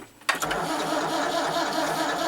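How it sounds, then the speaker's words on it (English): A Massey Ferguson 690 tractor's engine cranks and catches abruptly, then runs on at a steady, loud, rough idle close by, with no talk over it. "Doesn't like starting this tractor"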